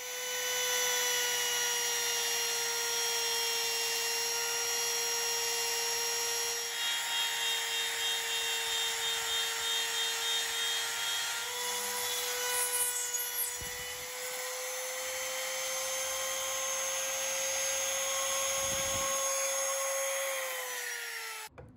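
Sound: router cutting recesses in wood

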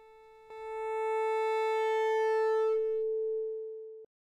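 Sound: sine wave distorted by overdriven tape deck

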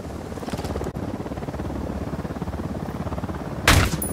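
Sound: helicopter in Ghost Recon Wildlands, video game

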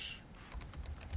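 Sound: typing a command on a computer keyboard

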